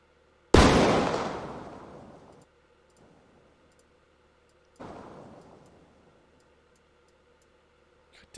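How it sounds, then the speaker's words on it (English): Video game fireworks bursting: one loud, sharp blast with a long decaying tail, a faint pop, then a second, softer burst, alone over quiet background. "That's fireworks."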